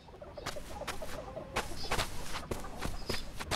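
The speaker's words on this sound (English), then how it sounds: "These chickens do not lay many eggs." Chickens in the video game Like A Dragon: Ishin! cluck repeatedly in short, uneven bursts close by, with soft footstep-like patter underneath and no talking.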